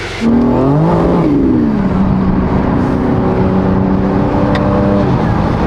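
A tuned BMW M4 Competition starts up loudly inside a closed garage and settles into a close, steady idle as it warms up. The pitch dips and shifts briefly just after it catches.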